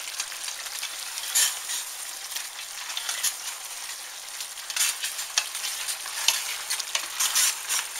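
Hamburger meat and onions fry in a pan until browned, giving a steady bright sizzle. Intermittent scrapes of a spatula stirring through the meat rise over it, close and continuous with no talking.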